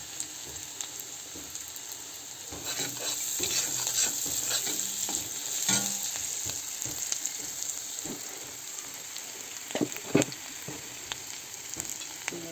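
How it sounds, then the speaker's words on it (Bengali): Spicy bottle gourd with potato stir-fries in a pan, a continuous sizzle broken by scraping stirs and occasional clinks of the spatula, close and moderately loud. "আমি এখন আলু দিয়ে লাউয়ের ঝাল ভাজি করব"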